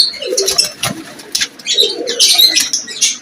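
Several pigeons coo close by on a Lahore rooftop loft, with soft rolling calls and a few chirps overlapping in an uneven cluster.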